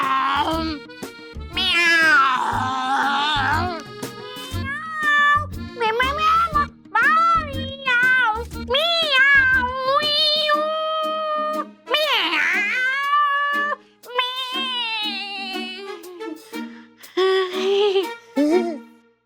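A voice mimics a cat's meows, repeated drawn-out mewing and wailing calls, loud and close, with some talking mixed in.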